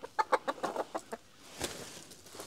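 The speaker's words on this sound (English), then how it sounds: "You're out here crowing your butt off." A rooster gives a string of loud, close clucks and squawks in quick succession, then a single drawn-out call after a brief pause.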